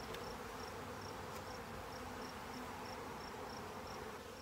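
Saskatraz honeybees buzzing at an apiary hive during a brood inspection, a faint, steady swarm hum with a recurring soft higher whine.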